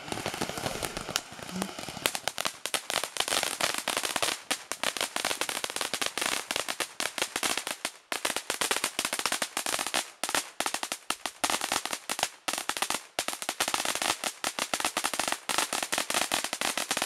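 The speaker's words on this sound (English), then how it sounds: "Fireworks back there." Fourth of July fireworks burst in a dense, continuous crackling barrage, with sharp firecracker-like pops and bangs layered over one another for the whole stretch, fairly loud and steady.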